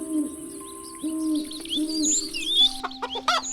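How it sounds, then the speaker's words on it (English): Stylised farmyard chicken sounds for a children's story: repeated low hooting clucks in short bursts, layered with chirpy bird calls, fairly loud and free of speech. "Finally, he came across a chicken family."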